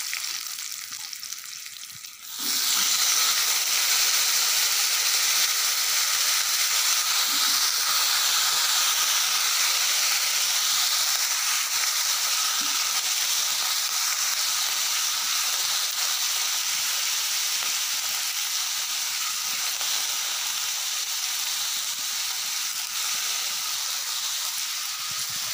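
Ridge gourd peel dropped into a hot pan for chutney, bursting into a loud, steady frying sizzle and hiss after a quiet start, continuing unbroken for the rest of the clip.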